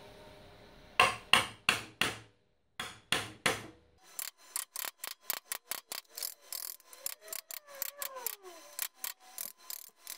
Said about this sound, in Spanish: Cogemos nuestro formón, nuestro martillo